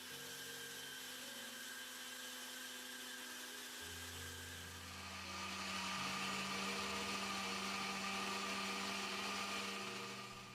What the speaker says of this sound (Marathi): आता हे संपूर्ण साहित्य आपण मिक्सरला एकदम पावडर स्वरूपात दळून घेऊयात